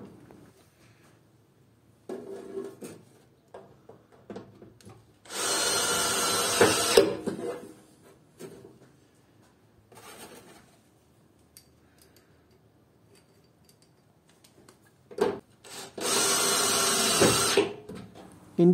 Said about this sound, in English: we use automatic screws and fasten the ducts to the body of the electrical